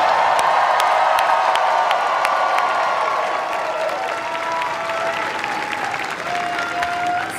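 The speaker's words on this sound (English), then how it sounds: "Can we all applaud our first-time voters?" A large political campaign rally crowd applauds for first-time voters, a dense steady roar of clapping with scattered cheers and whoops that holds loud throughout, easing slightly toward the end.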